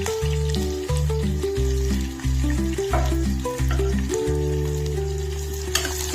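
Onions frying in oil for a vegetable pulao with fresh peas give a loud, continuous sizzle up close. A stirring scrape comes through under a steady low hum.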